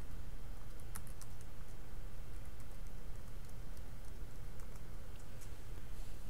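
Keys on a computer keyboard tap faintly in short irregular clusters while a username and password are entered, set against a steady background hiss.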